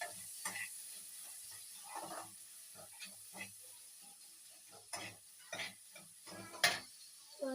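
Chopped onions sizzle in a frying pan for Bengali chicken kosha, with a soft steady hiss broken by repeated scraping, clinking stirs from a spatula.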